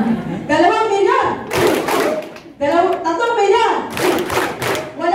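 An audience claps in two loud bursts of applause on request, each swelling over a host's talk, with a voice calling out numbers between the rounds.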